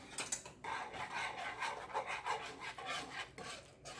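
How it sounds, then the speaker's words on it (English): A whisk scrapes steadily and quickly through a cheese sauce in a pan, a soft rhythmic rasp that continues without pause. "And just keep whisking it for a minute."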